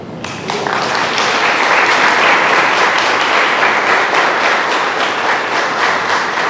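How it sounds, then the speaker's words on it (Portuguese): An audience at a Spiritist lecture breaks into sustained, dense applause, many hands clapping steadily and loudly together for several seconds with no voices on top. "Dedico essas palmas a Dona Neuza"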